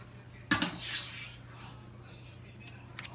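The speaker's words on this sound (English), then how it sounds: "I'm going to get like a spoon and just scrape all that goodness out of the bowl" A spoon scrapes the last Ghirardelli brownie batter from a mixing bowl, one sharp scraping clatter followed by a softer drawn-out scrape, then quiet with a couple of faint knocks.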